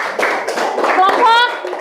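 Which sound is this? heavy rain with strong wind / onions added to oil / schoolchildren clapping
schoolchildren clapping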